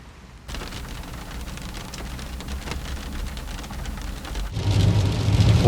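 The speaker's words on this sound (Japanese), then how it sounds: "本格的に雨が降り出してきました。" Heavy rain pours down on a coastal road by Toyama Bay, a steady loud hiss of drops across the whole clip that thickens and grows louder near the end.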